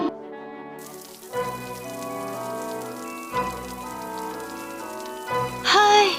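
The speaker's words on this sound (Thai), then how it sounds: "หน้าฝนเนี่ย พอเลิกงานก็ฝนตก" Cartoon rain from Sakura School Simulator patters steadily as a soft, constant hiss beneath sustained background music, with a brief electronic chime near the end.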